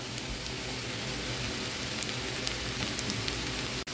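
Onions frying until brown in ghee and oil for lasooni palak paneer, a steady dense crackling sizzle filling the pan, loud and close, continuous without pause and with no voices.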